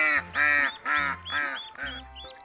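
A duckling quacks five times in quick succession. The calls are close and moderately loud, with short gaps between them.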